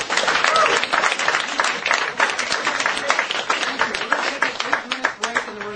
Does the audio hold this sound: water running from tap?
no